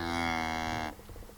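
A cow in a spring calving pasture lets out one long, loud, close moo that cuts off abruptly, then a faint rustling quiet follows.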